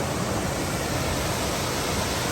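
Waterfall in Kaghan Valley: a steady, dense rush of falling water fills the whole moment at constant loudness, close and unbroken, with no voices.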